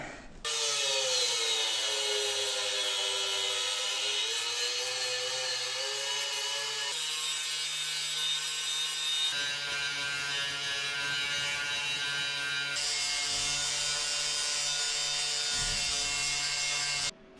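Power sanding or grinding to smooth down a fabricated floor: a steady, continuous high-pitched whine with shifting tone at several points, running unbroken for the whole stretch with no talk.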